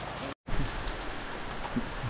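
Rain pours down in a constant, close broadband hiss, briefly cut to silence near the start before resuming steadily, with no speech heard.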